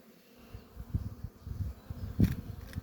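Young honeybees taking their first flights outside the hive make a busy, close buzzing drone, with single bees passing near and loud for a moment.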